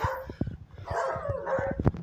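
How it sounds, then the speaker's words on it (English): Dogs barking outdoors, a string of sharp repeated barks and yips at moderate distance, several animals overlapping in quick bursts. "when there are dogs barking"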